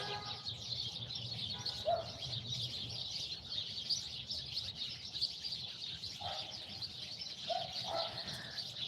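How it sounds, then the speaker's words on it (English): Birds in a tree chirp and call outdoors, a steady high twittering with a few clearer short calls standing out, moderately distant and fairly quiet. "The birds are having a wonderful time today."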